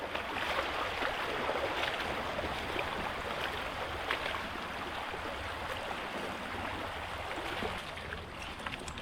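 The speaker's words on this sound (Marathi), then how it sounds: "मस्त पाऊस पडला आणि पाणी पण वाहतो" Rain-swollen creek water flowing steadily after a heavy morning downpour at a fishing spot near Mumbai, a continuous broadband rushing wash that stays close and even throughout, with no voices.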